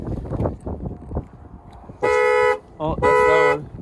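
Two loud, close honks from a Cadillac CTS horn set off by the key fob, each about half a second long with a brief gap between them, following talk from nearby people.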